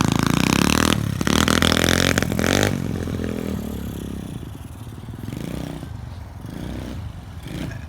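An SSR 125 pit bike engine revs hard and loud at close range, then the roar drops away into a lower, rougher idle with some clattering.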